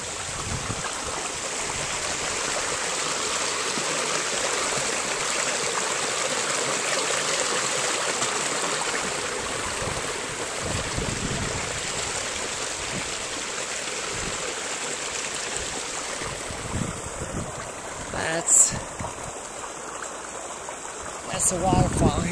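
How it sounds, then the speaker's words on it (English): Steady rushing splash of a waterfall falling into a swimming pool fills the clip, continuous and fairly close, with a few brief knocks and bumps near the end. "a waterfall here in my pool"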